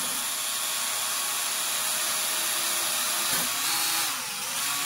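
A brush motor spun by a drill whirs steadily with a high, hissy tone while a cleaning stone is held against its copper commutator, a slight shift in pitch near the end.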